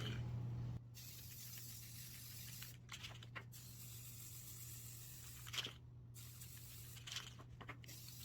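Spray paint hisses onto white rubber boots in a few short bursts spaced apart, faint and close by, with quiet pauses between the sprays.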